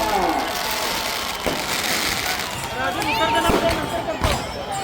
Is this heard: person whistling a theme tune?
no